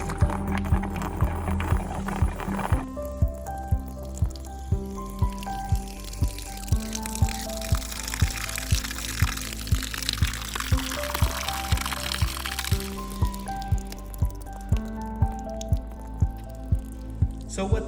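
Air and water bubbling and gurgling out of an exterior faucet's bleeder cap during flushing, a close rhythmic series of sputtering glugs repeating about once a second over a steady watery hiss.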